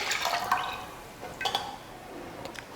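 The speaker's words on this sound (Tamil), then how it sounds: "பால் 1/2 லிட்டர் சேர்த்துக்கிறேன்." Milk pours and splashes into a cooking pot in a few uneven gushes, close by, with no talking.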